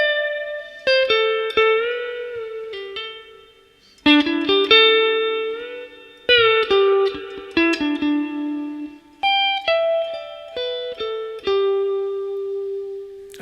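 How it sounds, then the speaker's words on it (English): An electric guitar solo, live at Keystone in 1973, plays clean sustained single notes and short phrases with sharp attacks and slow decays, up front and alone, no voices. "here are the first 4 bars of the first guitar solo."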